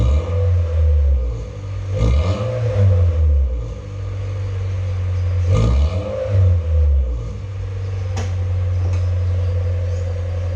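A Honda Brio exhaust fitted with an Ironcraft V2 muffler and its catalytic converter removed, revved inside a garage: several throttle blips swell into loud, close rumbling bursts, then drop back to a steady idle between them.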